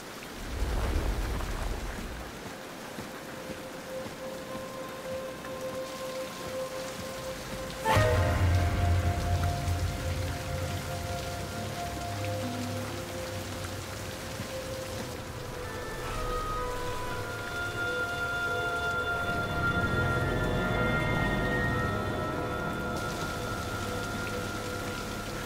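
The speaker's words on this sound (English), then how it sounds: "All this rain should help this tree grow." Rain falls steadily in the video game King's Quest, a continuous patter with a sudden rumble of thunder partway through and tonal game music underneath.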